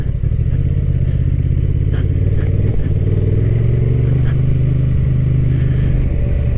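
A Honda Transalp 750 motorcycle ridden in gravel mode gives a steady, close engine drone with a low rumble and light mechanical clatter throughout.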